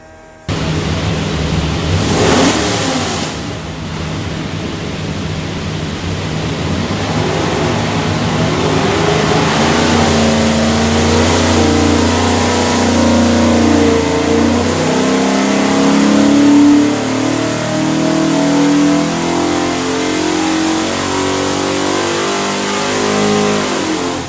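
A Ford 347 stroker V8 built for a '67 Mustang and fitted with a custom piston rotating kit roars on a dyno. It climbs in a loud, sustained rev that builds steadily in pitch over about twenty seconds.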